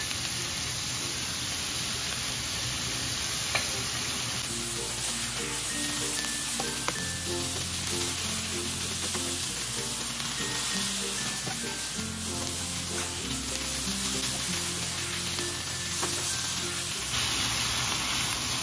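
Ground beef sizzles and fries steadily in a pan, a continuous crackling hiss with light stirring scrapes running the whole time, with background music playing over it and no talking.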